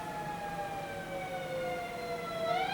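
A wailing police or ambulance siren sweeps steadily at a distance, slowly growing nearer as it passes, with no talking.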